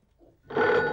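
A telephone rings once at moderate loudness, a short electronic ring following a faint soft sound, with no voices.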